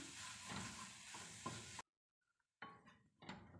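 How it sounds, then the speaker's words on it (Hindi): Spiced masala with pomegranate seed powder gets stirred in a pan, giving close scraping and sizzling strokes that break off into a pause of near silence before the stirring starts again. "अब मैं इसको मिक्स करूँगी।"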